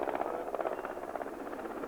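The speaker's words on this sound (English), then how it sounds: "Sound like a big helicopter going overhead." A big helicopter drones overhead with a steady, faint, rhythmic rotor thump that holds throughout.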